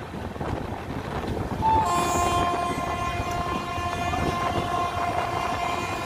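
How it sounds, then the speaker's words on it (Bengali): A train pulling into a leafy station running thirteen minutes late, a loud continuous rumble of rolling wagons with a drawn-out horn or brake squeal tone sounding over it. "ট্রেন এখানে লেটে এসছে 13 মিনিট লেটে এসছে"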